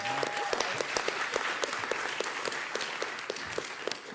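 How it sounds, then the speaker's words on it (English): Audience applause for speaker Christina Heatherton at a talk event, a steady wash of many hands clapping at moderate distance, sustained without pause. "Please give Christina a huge round of applause."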